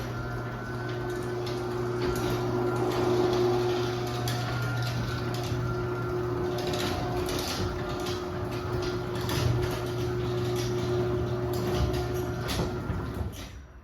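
A LiftMaster 1245LM garage door opener runs in one long steady stretch of about fourteen seconds, giving a smooth motor hum with faint ticks and a light rattle from its cracked light lens. No one speaks.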